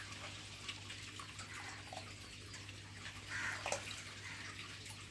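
Milk pouring steadily into a sago and jaggery payasam, a faint continuous liquid trickle and splash heard alone, with no talking.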